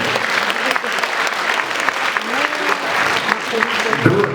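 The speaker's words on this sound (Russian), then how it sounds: "Ваши аплодисменты" Audience applause at a memorial evening concert, a steady wash of many hands clapping throughout, with faint voices and a few louder claps near the end.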